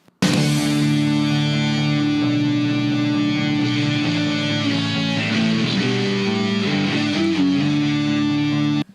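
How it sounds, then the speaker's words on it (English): A breakdown section from the middle of a rock song plays as a recorded excerpt, dense and loud with sustained distorted guitar chords and drums running steadily for the full length, no speech over it. "The breakdown in the middle of the song"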